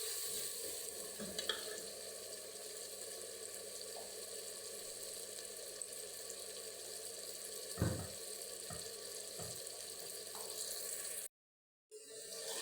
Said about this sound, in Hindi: ये डाल देंगे और इसको अच्छी तरह मसाले को भूनेंगे।